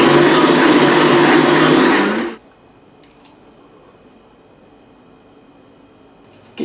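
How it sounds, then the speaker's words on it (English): A blender making a smoothie roars loudly on high for about two seconds, then cuts off abruptly, leaving near silence with a faint click or two. "Blend this on high for 20 to 30 seconds."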